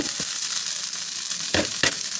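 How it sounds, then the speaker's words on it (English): Vegan pernil sizzles in a skillet, a steady close frying hiss with two louder bursts near the end as the pieces are stirred. "hear the sizzle?"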